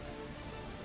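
Rain falls in Lords of Xulima as a brief, even hiss of drops on a surface, soft and continuous, with no speech.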